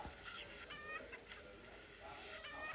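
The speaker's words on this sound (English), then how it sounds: "that's what you sound like, you dumb chicken" Chicken clucking from a farming video game, a few short bursts of clucks repeating over a steady background of game sound.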